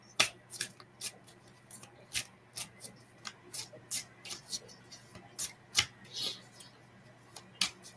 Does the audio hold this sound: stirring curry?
no